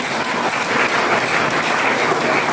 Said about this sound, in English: A round of applause for our ancestors.